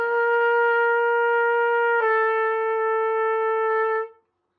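A trumpet holds a steady sustained tone, then drops a half step with the second valve, the lower note ringing on clearly and alone before cutting off.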